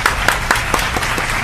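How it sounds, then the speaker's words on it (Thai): Applause at a roadside Thai larb stall, loud and close, with a few sharper individual claps standing out above a dense wash of sound throughout the short burst. "ปรบมือครับ"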